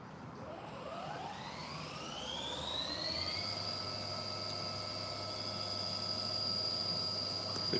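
CNC milling machine spindle spinning up to 6,000 RPM while machining small drone parts, a rising whine of several tones that climbs over about three seconds and then holds a steady high pitch over a low hum.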